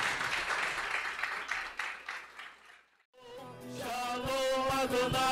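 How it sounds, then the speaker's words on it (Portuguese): A church congregation at a Sunday service applauds its pastors in a broad wash of clapping that fades out, followed by music and singing starting up. "Gostaria de pedir para a igreja uma salva de palmas aos nossos pastores."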